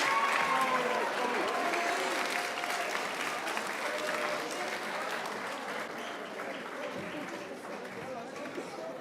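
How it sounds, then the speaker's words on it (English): Rising seniors are applauded at a school stepping up ceremony, steady crowd clapping mixed with chatter, cheering voices and movement as they file out, continuous throughout. "please give a big round of applause for our rising seniors as they exit to go grab some lunch"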